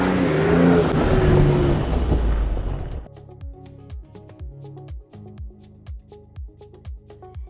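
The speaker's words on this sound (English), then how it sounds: "we hopped in the truck to explore the southernmost part of the playa" A truck drives across the dry Death Valley playa with a loud, steady engine and tyre roar that drops away at about three seconds. Rhythmic bumping, rattling thuds follow, evenly spaced and close.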